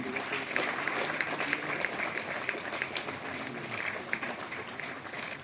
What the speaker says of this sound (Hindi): तालियां तो बहुत पीछे पड़ रही हैं।